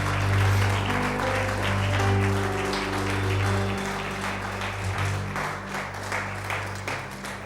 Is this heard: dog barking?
no